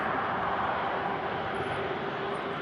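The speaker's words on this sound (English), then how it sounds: "Next aircraft to pass is another Virgin." Virgin airliner passing at Manchester Airport, a steady broadband engine roar holding at a constant level throughout, with no voices.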